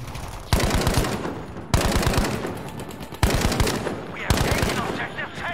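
Burst-fire shots from a gun in Battlefield V: four distinct bursts of rapid, crackling rounds spaced about a second apart, loud and close, each burst fading into a brief tail before the next, with some talk underneath.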